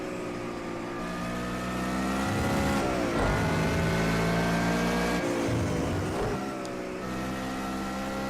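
Race car engine in Project Cars 2 revving hard through a corner onto the main straight, loud and close with rising and falling pitch as gears shift, sustained throughout with no talking.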